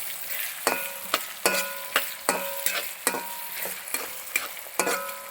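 150 grams of finely chopped ginger fries in oil for a Kerala-style fish pickle. A steady sizzle runs underneath, and a spoon makes regular scraping strokes roughly every second, close and alone.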